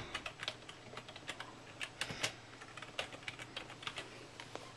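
Rapid, uneven clacking of keys on a computer keyboard, close and fairly quiet, with short bursts and brief pauses and no voice over it.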